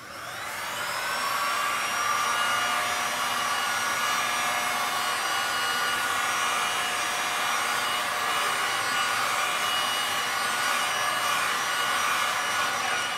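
A heat gun blows continuously over a wet Stone Coat resin tile, a loud steady whooshing roar that ramps up in the first second and holds unbroken to the end, with no voices.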